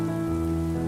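Steady rain patters outdoors in an unbroken, dense hiss of drops, fairly loud and close, over a low droning tone, with no voices.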